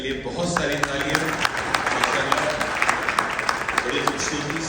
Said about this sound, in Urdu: ایک مرتبہ پھر یمنا کے لیے بہت ساری تالیاں.